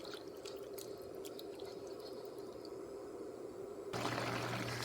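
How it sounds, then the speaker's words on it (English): Chickpeas (chana) simmering in a pot of water as it comes to a boil, a steady bubbling and dripping murmur that swells louder and denser near the end. "the water is boiling, and we are going to let it boil"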